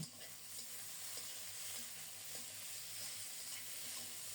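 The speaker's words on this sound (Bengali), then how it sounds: "এবার সব কিছু মিলিয়ে মশলাটাকে ভালো করে কষিয়ে নেব" A masala of onion, green chilli, tomato, turmeric and salt sizzles in a pan while being stirred, a steady close frying hiss broken by the scrape of a spoon, with no voices.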